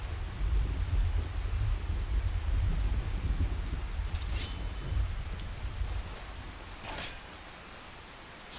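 A heavy rain and thunderstorm fills the Skyrim game world with a loud, steady downpour and deep rumbling, with a couple of sharper cracks near the end as the roar eases slightly. No one speaks.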